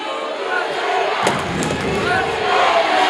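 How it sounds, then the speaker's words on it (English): Loud crowd yelling and cheering fills a gym during a girls' high school basketball game between Weyburn and Estevan, a steady dense roar with a sharp thump partway through and rising again near the end. "It's very hard to commentate when the entire Weyburn crowd is yelling"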